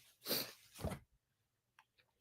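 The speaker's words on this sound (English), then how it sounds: "If I could quit sneezing." Two sharp, breathy bursts in quick succession, like a pair of sneezes, followed by near silence.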